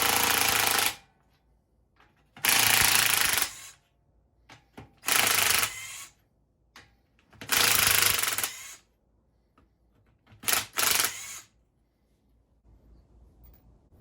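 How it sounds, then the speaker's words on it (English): An impact wrench removing U-bolt nuts on a Dana 44 axle from a '78 Power Wagon, several loud hammering bursts of about one second each separated by quiet gaps, close and harsh with no talk. "Now we can get this off the rest of the way with the impact."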